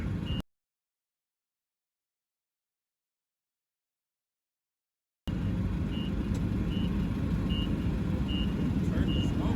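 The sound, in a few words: truck backing up with reversing beeps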